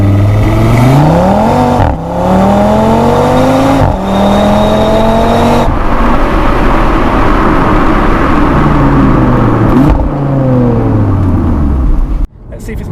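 An Audi RS3 engine pulls hard at full throttle through several gearshifts, rising whines broken by brief dips between gears, loud and close from inside the car with little else over it.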